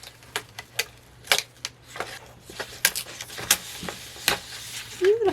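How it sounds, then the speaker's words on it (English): LOKLiK iCraft cutting machine cutting paper, a quick series of sharp clicks and ticks at uneven intervals over a faint steady hum, close by. "You can see here the speed at which it cuts and the noise, the volume of the noise that it operates."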